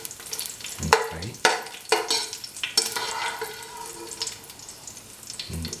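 Rice frying in ghee with salt and dry grapes for ghee rice: bursts of sizzling crackle with sharp spoon scrapes and clinks against the pan in an uneven rhythm, close and fairly loud, no talk.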